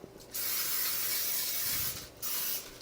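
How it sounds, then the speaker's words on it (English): Cooking spray hisses onto a frying pan while protein pancakes are being made: one long, steady spray burst, a brief pause, then a second, shorter burst, close and clear with no talking. "So I'll just spray my pans."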